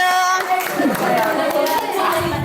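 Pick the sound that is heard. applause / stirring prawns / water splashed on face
applause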